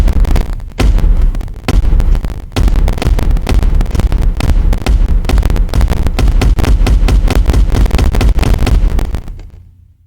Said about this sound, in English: This is the kick. It sounds like this.